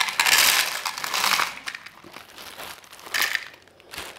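Small M5 metal screws pour into a 3D-printed PLA container, a close, loud rattling clatter in two bursts with a quieter spill between them.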